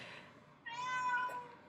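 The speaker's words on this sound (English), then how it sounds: "you can probably hear my cat in the background" A pet cat meows once in a long, drawn-out call in the background, fairly faint and close, following a quiet pause with no talking over it.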